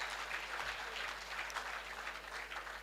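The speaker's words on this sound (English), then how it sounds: "Can we also give a big round of applause?" Steady applause from a crowd at a university excellence awards ceremony, a continuous wash of clapping heard at a distance, even in loudness throughout.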